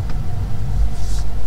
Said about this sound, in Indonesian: Kalau mobil listrik gini ya, nyobain Hyundai, nyobain Tesla ya gini-gini aja. Suara ban doang.